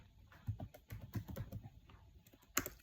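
Keystrokes on a computer keyboard while entering a discount menu item in a Python restaurant program, a quick irregular run of soft clicks with one sharper tap near the end, close and quiet.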